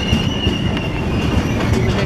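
Netravati Express pulling into a station, a loud close rumble of rolling wagons with squealing wheels and rhythmic clatter over rail joints, no voices.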